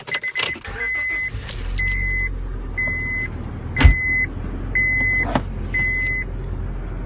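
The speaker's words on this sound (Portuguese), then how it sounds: "Ligar o carro aqui." A 2003 Honda Civic automatic starting up in Sarasota: a short crank and catch, then a steady low idle rumble with repeated electronic chimes and a brief clunk, no talking.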